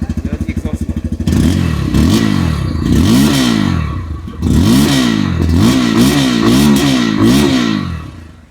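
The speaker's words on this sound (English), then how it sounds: "here's the exhaust note." A loud Bajaj Pulsar motorcycle idles with a rapid putter, then revs up and down repeatedly in strong throaty surges from the exhaust, close to the microphone.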